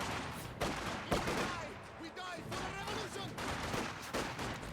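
Infantry rifle and machine-gun fire in the strategy video game Company of Heroes 2, as Volksgrenadiers holding a victory point shoot at combat engineers; scattered bursts and single shots crackle steadily throughout.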